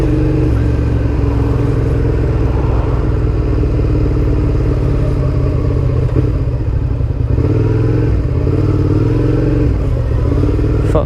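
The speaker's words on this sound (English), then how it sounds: "there's a lot of traffic here" Heavy London road traffic surrounds a motorcycle filtering between vehicles: a loud, continuous engine drone and low rumble from the bike and nearby cars and a big truck, with passing vehicle noise swelling and fading.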